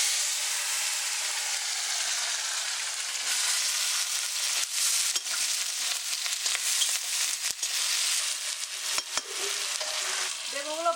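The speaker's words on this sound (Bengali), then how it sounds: "এই তেলে আমি বেগুন কটা প্রথম ভেজে নেবো।" Eggplant pieces fry in oil left from frying hilsa fish, giving a continuous close sizzle and crackle with occasional sharp pops and scrapes of stirring, no voices.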